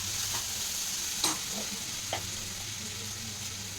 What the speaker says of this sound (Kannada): ಫ್ರೈ ಗೋಲ್ಡನ್ ಕಲರ್ ಬರಲಿ.